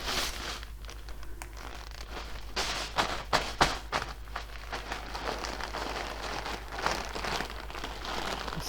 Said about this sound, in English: the way I crush them is just by putting them into a bag